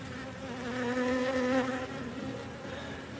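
Wild bees buzz around a frame as honey is extracted from a hive, a close, steady droning hum that swells briefly and then eases, with no voices.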